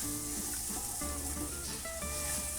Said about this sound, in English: heating up the spices in the oil really does enhance the flavor